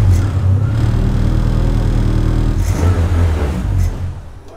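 A Hyundai i20N with a full aftermarket exhaust starts and runs, a loud close low rumble that swells briefly as the engine revs, then eases off toward the end.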